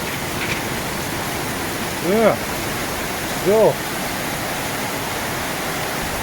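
Heavy rainstorm in Manila with water running through a flooded street, a steady broad roar of rain and flowing water throughout, while someone speaks briefly over it.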